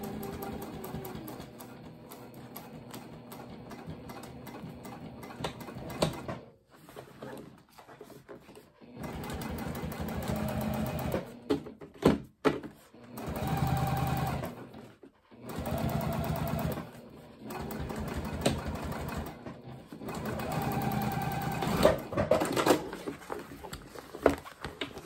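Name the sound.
sewing machine top stitching tote bag exterior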